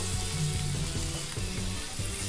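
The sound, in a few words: karela (bitter gourd) frying in masala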